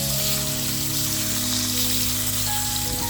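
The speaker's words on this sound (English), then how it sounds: "We're going to let these sear on high heat for about 2 minutes till we get a nice golden crust" Pork chops searing in a hot pan on high heat, a steady, dense sizzle like rain on a surface running throughout with no pauses.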